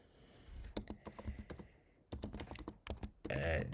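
Quick bursts of computer keyboard typing, clicky keystrokes in short runs separated by brief pauses, close and moderately quiet.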